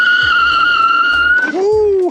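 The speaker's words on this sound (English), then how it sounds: "Do some hard braking here." An Aventura-X retro electric scooter brakes hard, giving a steady high-pitched squeal that drops in pitch into a shorter descending whine before cutting off, close and loud.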